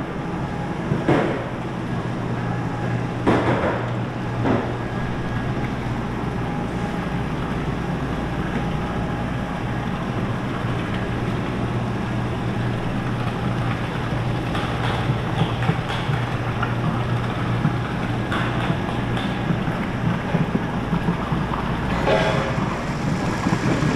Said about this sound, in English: So I'll get our pump going,